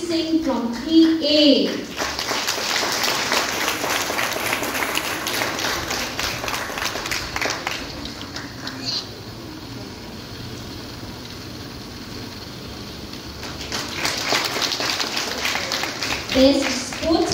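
Audience applause at a school annual performance and prize distribution ceremony as award winners are named, dense clapping in two long bursts with a quieter stretch between, voices speaking over it at the start and end.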